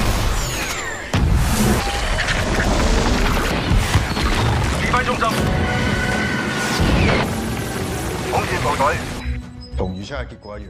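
Bombs fired by a crew against aliens in a science-fiction invasion film set in 2055 explode in deep booms and crashes, layered into a dense, loud soundtrack with a voice speaking over it.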